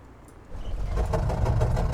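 A cranked rotary aero engine of an Albatros D.III biplane catches and starts running in a flight simulator game, quiet at first, then swelling into a steady mid-pitched clatter that keeps going.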